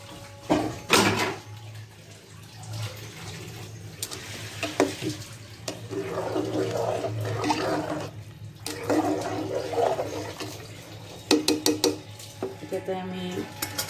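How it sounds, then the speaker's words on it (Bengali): Hot water poured into a pressure cooker holding fried rice and lentils for khichuri, with a few pot clanks first, then two long gushing, splashing pours and sharp metallic clinks near the end, close by with no talk. "এবার এটাতে আমি গরম পানি দেবো"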